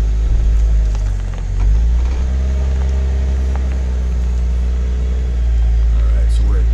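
Ineos Grenadier prototype off-road vehicle climbing a steep incline during an overland drive, its engine giving a steady, close, heavy low rumble with a brief dip near the start, with no talk over it.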